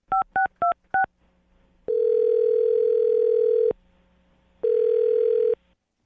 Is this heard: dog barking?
no